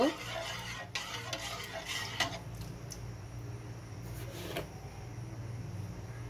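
A spoon stirs milk heating in a pot, with scattered clinks and scrapes against the metal over a low steady stovetop hum, and a few sharper knocks of utensils.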